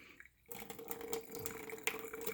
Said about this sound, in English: I'm gonna stick a fork in here to stop the noodles from spilling out, and then pour